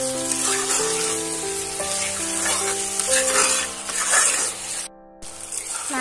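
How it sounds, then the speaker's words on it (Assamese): Meat frying with spices in a wok, a steady close sizzle and hiss with a sustained tonal background of music running throughout, broken by one brief silent gap near the end. "মাংসখিনি ভজা হৈছে।"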